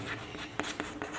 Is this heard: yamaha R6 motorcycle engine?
no